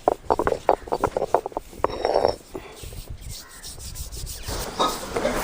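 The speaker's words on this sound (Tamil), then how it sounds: "நான் அம்மியில் அரைக்கிறேன்" Ingredients for a sesame seed sweet are ground by hand on a traditional stone grinder (ammi): close, rhythmic scraping and rubbing strokes repeat steadily, then settle into softer, continuous grinding, with no voices.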